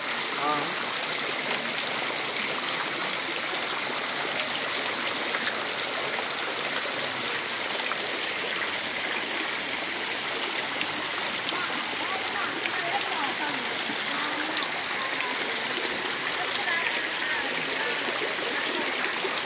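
Water pours and splashes steadily from 108 stone water spouts at a temple in Lalitpur, Nepal, a constant rushing flow with no break, close by and fairly loud.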